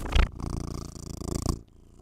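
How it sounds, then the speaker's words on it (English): A studio cat purrs loudly right against the microphone, a close rhythmic rumbling pulse that runs steadily for about a second and a half after a brief bump, with no talking. "You guys hear him purring?"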